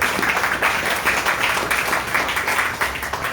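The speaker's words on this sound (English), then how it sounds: "Let's hear it for Attorney Jeff Deskovich" Audience applause for an attorney at a Wrongful Conviction Day 2022 event organized by Bikers For Justice, with a steady, dense crowd of clapping hands close by for several seconds.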